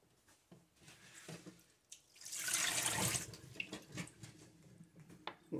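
Tap water runs over food being washed for a pork lettuce wrap dish, a soft splashing rush that swells for about a second amid faint kitchen clatter.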